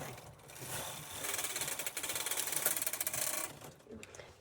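A knitting machine working a punch card pattern for a baby motif, with a steady rattling, ratchety mechanical clatter that swells through the middle and eases off near the end.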